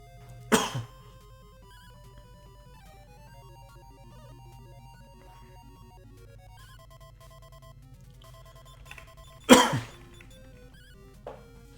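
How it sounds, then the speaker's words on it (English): Two sharp coughs break through quiet background music, one near the start and another late, with a softer throat sound at the end. "Apologize for the cough."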